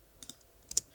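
Mouse clicks at a computer while working in iZotope RX 12 audio repair software: a few quiet, sharp clicks spread across a second, the last pair slightly louder, with no talking.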